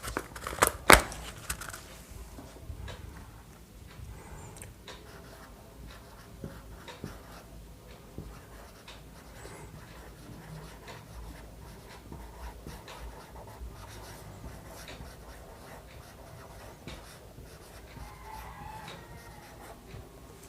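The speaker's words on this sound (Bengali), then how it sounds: "লিখে দিচ্ছি বোর্ডে।" Chalk writes on a classroom board in quiet, uneven scratching and tapping strokes, faint and close. One sharp knock comes near the start.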